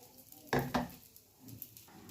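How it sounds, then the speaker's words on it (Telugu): Groundnuts frying in a pan for onion pachadi: a soft, close sizzle with two sharp scraping stir strokes early on, then quieter crackling and rustling as they toast. "చూడండి, శనక్కాయ పప్పులు కొద్దిగా వేగాలి."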